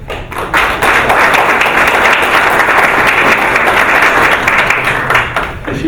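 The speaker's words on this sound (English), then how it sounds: "If you keep applauding like that, it will be a long time." An indoor audience at a 50th anniversary event applauds loudly and continuously for about six seconds, the clapping swelling quickly at the start and fading slightly near the end.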